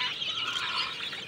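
Chickens on a rooftop poultry farm in the morning make a dense, continuous chatter of clucks and calls, close by and steady, with no talking.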